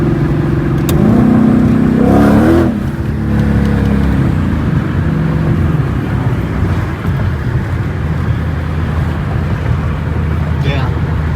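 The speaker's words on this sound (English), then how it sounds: "That was like quarter throttle. Doesn't take much." Inside a 2021 Ford Mustang GT500 on 315-section tires, the engine pulls hard at quarter throttle, a loud, steady rumble with a brief rising sweep near the start, and a voice talks over it.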